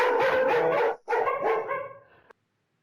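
Dogs bark in a loud, close, overlapping burst with a brief pause, then fade out into silence.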